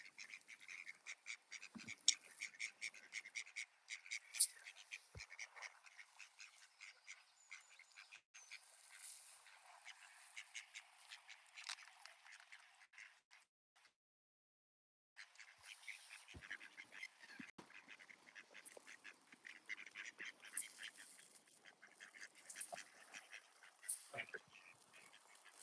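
Ducks chattering in the morning, a steady dense stream of soft quacks and calls close by, with a brief lull midway before the chatter resumes.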